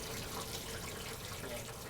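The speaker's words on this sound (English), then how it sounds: "the water is still flowing into the gutters even with debris there" Water runs steadily into roof gutters fitted with gutter guards, flowing past debris in a continuous wash with no pauses.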